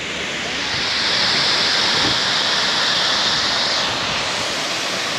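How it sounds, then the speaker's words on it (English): A waterfall near Lares, Puerto Rico, gives off a steady, broad rushing roar, constant and fairly full, with no voices over it. "here's the waterfall"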